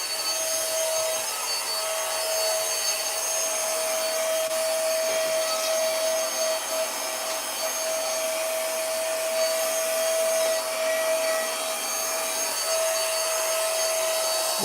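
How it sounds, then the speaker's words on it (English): A vacuum cleaner runs steadily over a home floor, a loud, continuous motor whine with a fixed high tone that holds evenly throughout, close by with no talking. "this is to vacuum the floor"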